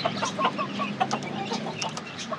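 Quail and their chicks in a cage give steady, overlapping clucks and chirps close by, a busy, unbroken chatter of poultry calls with no talking.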